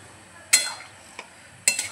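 A spoon stirs chopped eggplant in a pot while cooking a Hyderabadi baingan masala, giving three short scraping clinks, close and fairly quiet, spaced out over a couple of seconds.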